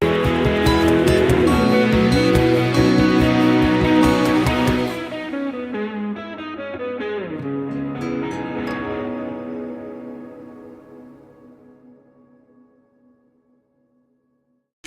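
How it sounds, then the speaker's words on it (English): Distorted electric guitars play loudly, then stop abruptly, leaving a long, swelling automated Valhalla Vintage Verb reverb tail that rings on and slowly fades into silence. "here's the other place where we automate the reverb tail"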